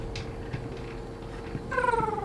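A cat in the horror game The Baby in Yellow lets out a short, clear meow near the end, rising out of a steady low background drone.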